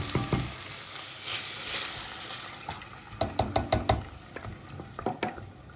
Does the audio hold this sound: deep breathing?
no